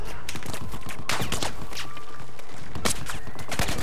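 Battlefield 4 gunfire comes in dense, continuous bursts of rapid shots, loud and close, with scattered clanks and impacts over a steady background roar.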